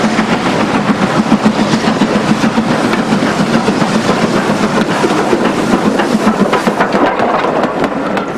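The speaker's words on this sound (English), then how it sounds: "Fairburn Class 4 264 works the photographic charter over the Lakeside Railway in November" Fairburn Class 4 tank steam locomotive 264 hauling a charter train on the Lakeside Railway in November, a loud continuous rumbling roar with a steady rhythmic pulse and no talk.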